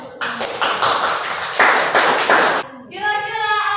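Students in a school classroom clap for a presenting group in a few uneven bursts of close, sharp hand claps, then the clapping cuts off and a voice begins speaking.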